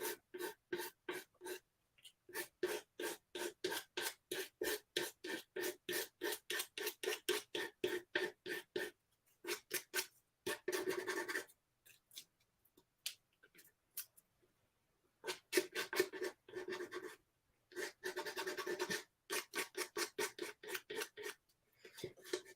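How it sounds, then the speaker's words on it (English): Nail file rasping along the overhanging paper edges of a craft piece, a steady run of quick, evenly spaced strokes in bursts with short pauses, close and fairly loud, no talking. "And yes, I am using a nail file."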